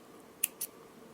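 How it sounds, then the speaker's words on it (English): Two quick scissor snips cut through jewelry thread, crisp and close, separated by a short pause against a quiet room. "Now that I have made a few knots, I will cut the thread"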